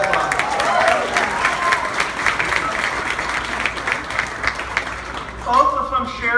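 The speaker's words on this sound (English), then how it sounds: "Let's give them a round of applause." Applause from a crowd at a California election victory event, sustained dense clapping that fills the room, tapering slightly before a voice starts speaking near the end.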